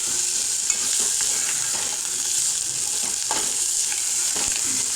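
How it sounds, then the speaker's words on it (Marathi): Coriander is stirred into a simmering potato and mixed dal amti in a pot, with a steady bubbling sizzle and soft scraping stirs, close and continuous with no talking. "आता असं एकत्र करून घेऊया कोथिंबीर."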